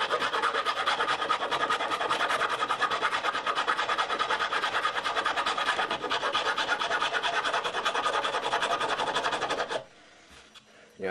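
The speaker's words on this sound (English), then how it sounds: "So I'm going to go ahead and finish that up with the rasp" A rasp files wood while shaping a bridge, producing a loud, close, fast rhythmic scraping that runs steadily for about ten seconds and then stops abruptly.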